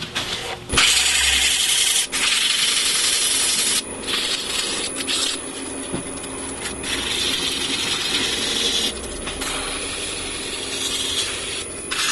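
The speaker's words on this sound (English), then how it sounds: "it's a lot of hand sanding" Wood is sanded by hand up to 600 grit in long, continuous rasping strokes, the scratchy friction pausing briefly between passes, close and fairly loud.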